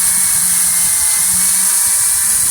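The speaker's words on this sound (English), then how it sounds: "Set your drill depth so that you won't drill through the door all the way." A power drill pre-drills screw holes in a door for installing dummy door knobs, a steady high whine held for the whole stretch, close and loud with no talking.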